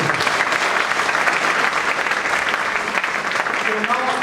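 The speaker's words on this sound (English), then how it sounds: "Please give a round of applause." Sustained audience applause at an induction event for a hotel general manager, dense and steady from start to finish with no break.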